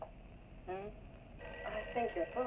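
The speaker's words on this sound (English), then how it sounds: "I think your phone is ringing." An old office telephone rings in a 1959 film scene, its tone heard under and between people talking.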